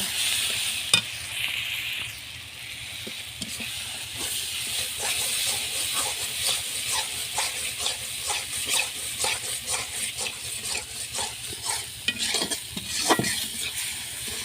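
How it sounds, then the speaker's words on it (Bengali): Steady crackling sizzle of spices, including coriander, frying in hot oil, with occasional clinks and scrapes of stirring, close and continuous throughout. "এবারে আমি মশলাগুলো দিয়ে দেবো"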